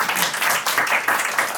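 A small audience claps at a game-show-style comedy taping, a brief, loud, steady round of hand clapping heard up close.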